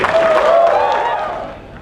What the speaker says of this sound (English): shall you all give a big round of applause for this public rally?